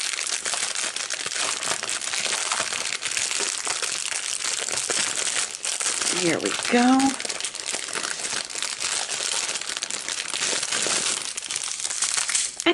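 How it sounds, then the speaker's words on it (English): Dense, continuous crinkling and rustling of a plastic bag of diamond painting drills being handled and torn open, close up, with a short spoken phrase partway through. "I'll open this bag of drills."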